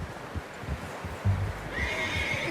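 A horse neighs in the open-world Western game Red Dead Redemption 2, a short whinny rising over low hoof clops and ambient rumble, with no talk.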